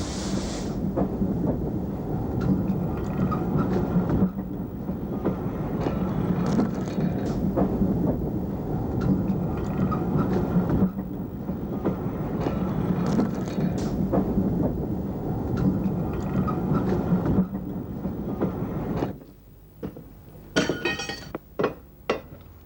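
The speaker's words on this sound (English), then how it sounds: "Many eyes anxiously observe the progress of the loco over this less than perfect piece of temporary track" A narrow gauge locomotive rumbles slowly over rough temporary track, a continuous loud mechanical clatter and rattle with clinking metallic accents that drops away near the end, leaving a few sharp clanks.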